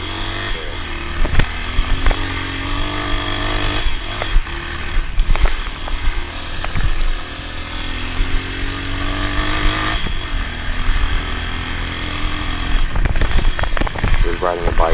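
Dirt bike engine revving and pulling up a small hill climb on an Alaska mountain trail, a steady close engine drone with rising and falling throttle surges throughout.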